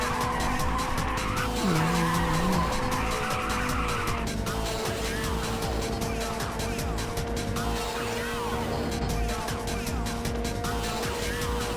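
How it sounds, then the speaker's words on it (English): Tires skid and squeal continuously as a car drifts in the racing video game Ridge Racer 2, with a steady engine drone underneath and a sustained, close screech running for several seconds. "Let's generate some NOS with drifting."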